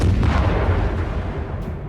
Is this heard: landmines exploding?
yes